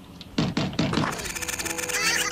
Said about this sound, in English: we bang hard on the doors